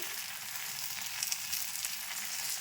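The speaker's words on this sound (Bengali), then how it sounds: "ধারগুলো আমি তুলে তুলে তেলটা ভিতরে পাস করে নিচ্ছি" Fritters fry in a shallow layer of oil with a steady, close, bright hiss and fine crackle that holds evenly throughout, with no voices.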